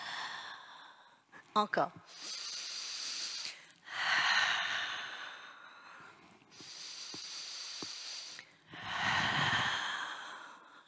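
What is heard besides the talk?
breathing in and out during a Pilates exercise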